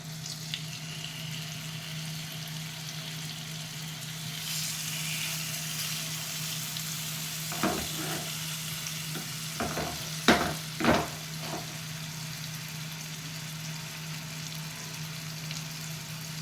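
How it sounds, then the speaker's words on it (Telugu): Fish pieces fry in hot oil in a pan, giving a steady close sizzle with a low hum underneath and a few brief clinks and scrapes of a utensil partway through, with no talk. "చేప ముక్కల్ని ఎక్కువ అటు ఇటు తిప్పకూడదండి. ఇది చాలా డెలికేటు, తొందరగానే వేగుతాయి."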